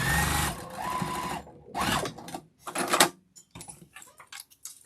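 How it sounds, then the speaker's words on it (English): A sewing machine stitches along the bottom of a fabric bag in several close, loud bursts of rapid whirring, separated by brief pauses and lighter clicks of handling. "I'm on the main, so I'm going to sew the whole thing"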